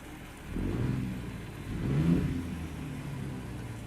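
A Mack Superliner truck with an E6 diesel engine revs twice in succession, a deep rumbling swell rising and falling over a steady idle, close by.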